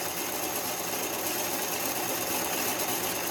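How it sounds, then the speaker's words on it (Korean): A sewing machine, taken apart and readjusted after a fault, runs steadily while stitching a dense zigzag, a continuous whirring buzz throughout with no talk. "기계 전체를 분해해서 조정을 한 결과 정상적으로 박음질이 되는 이런 기계가 지그잭 바느질이라고 하죠"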